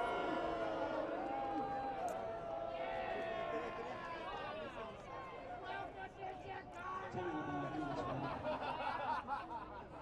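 Spectators at a 2012 NexGen Ultimate Tour ultimate frisbee game between NexGen and Chicago Machine react loudly to a foul call, a steady crowd murmur with shouts and scattered laughter running under the whole stretch.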